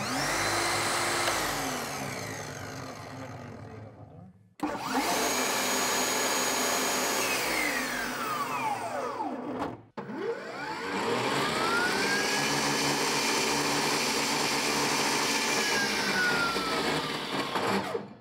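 A cordless table saw whines loudly, spins down to a stop, restarts, stops again, then runs up once more at full speed, each start sharp and each run-down falling in pitch.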